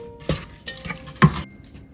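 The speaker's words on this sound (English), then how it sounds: "We will give this a really good mix." Kheer with saffron and dry fruits being stirred in a pot, two short scraping strokes of a spoon against the pot over a soft bubbling background, close and fairly loud.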